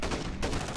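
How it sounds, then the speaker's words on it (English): Gunfire in Call of Duty: Modern Warfare 2, a dense, loud burst of rapid shots filling the whole second. "Get your cover and return fire!"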